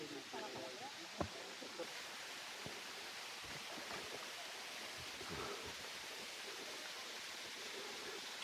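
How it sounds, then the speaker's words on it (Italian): Small waterfall at a mountain spring in the Valley of the Hundred Springs near Cesacastina, a steady rushing splash of water that holds evenly throughout, with a few faint knocks near the start. "qui è già la prima cascatella."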